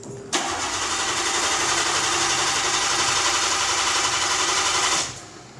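An engine cranks and catches, then roars steadily at a high, buzzing pitch for about five seconds before cutting off abruptly, loud and close with no talking.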